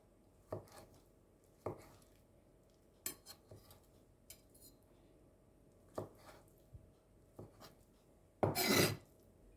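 Knife slicing cooked food on a chopping board while making fried rice: a handful of sparse, crisp taps spaced a second or more apart, followed by a louder scraping burst near the end.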